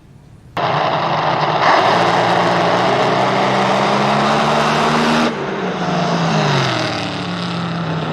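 The fuel altered drag car Psycho 2 fires up at Mo-Kan Dragway, its nitro engine snapping into a loud, steady roar that holds close for several seconds, then drops to a lower, wavering idle.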